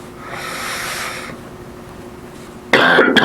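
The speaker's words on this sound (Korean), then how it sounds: "어렵다 그러니까 바로 기침이 나와버리네요." A soft breathy hiss gives way to one sudden, harsh cough near the end, close and loud, from a commentator during a Korean horse-racing betting preview broadcast.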